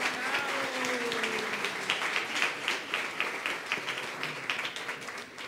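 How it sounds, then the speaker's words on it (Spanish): Congregation applauding at a Sunday Catholic Mass, steady, dense clapping that fills the church for several seconds, moderately distant with a slightly uneven, rippling texture. "vamos todos a unirlos todos en un solo aplauso a todos esos ministerios que han hecho posible esta santa misa"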